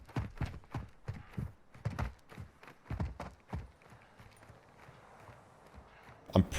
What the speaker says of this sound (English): Oh, I hear a footstep on our left-hand side.